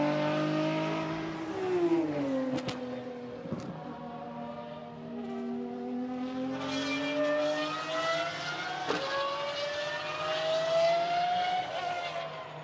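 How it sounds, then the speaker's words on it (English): Lamborghini SCV12 race car on a circuit approaching turn 8 and riding the curb, its engine note climbing through gears with rising, falling pitch and loud high-revving howls, continuous throughout. "So the Lamborghini SCV12 once more comes towards turn 8. Picks up the power, rides the curb."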